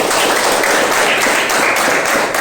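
Dense, steady applause from a classroom of students clapping for a classmate, a continuous loud wash of many hands with no pauses.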